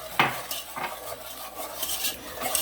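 A spoon or whisk stirs granulated sugar into melted butter in a pan for caramel, with close scraping strokes and clinks against the pan over a soft sizzle.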